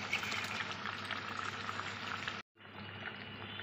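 Bhola fish curry bubbles and simmers in a pan, a close, continuous soft boiling hiss with faint sputters, cut by a short silent gap before the simmering resumes.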